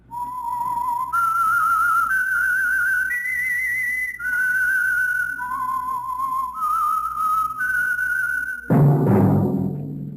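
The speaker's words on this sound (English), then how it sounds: "That whistle is your signal for the Whistler." A lone whistler carries the theme signal of The Whistler radio mystery show, a clear, steady tune of held notes stepping up and down, then a swell of orchestral music takes over at the end.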